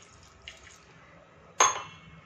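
A short splash of water poured from a tap into a container, sudden and close, after a quiet moment.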